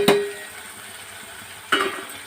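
Ivy gourd curry, made from homegrown gourds, is stirred in a pan after salt, chili powder and turmeric go in. Two distinct clinks of a utensil against the pan land near the start and end, with quiet scraping between.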